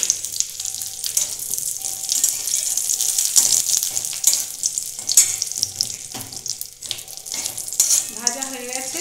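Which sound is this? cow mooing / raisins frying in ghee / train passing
raisins frying in ghee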